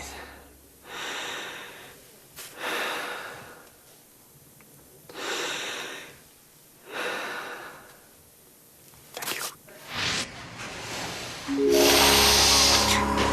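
A man does slow calming breathing exercises, four long deep breaths in a steady rhythm, close and audible, followed by a brief louder noisy burst at the end.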